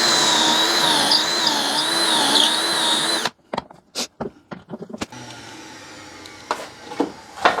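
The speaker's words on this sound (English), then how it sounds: "And then I can drill my pocket holes like this." A power drill bores pocket holes into wood for a mobile laser cabinet, first a sustained whining run, then after a sudden stop several short, sharp bursts and clicks, close and loud.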